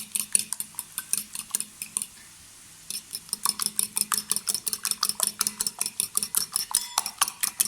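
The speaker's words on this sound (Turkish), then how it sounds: "Kasemin içine iki yumurtamı koydum ve güzelce çırpıyorum." Two eggs with red pepper, salt and black pepper being whisked in a bowl with a fork, a close, rapid rhythmic clinking against the bowl after a short pause.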